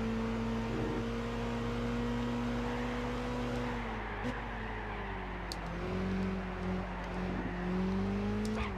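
A race car laps the Nürburgring in Gran Turismo 6, its engine holding a steady, loud drone that climbs and drops in pitch with shifts and throttle changes through the whole lap section.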